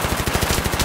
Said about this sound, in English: Okay, who's shooting at me really?